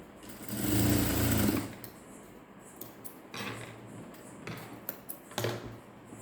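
A sewing machine stitches a dart into a blouse, sewing in one loud, steady burst of rapid mechanical whirring before it stops. Fainter clicks and handling noises of the machine and fabric follow.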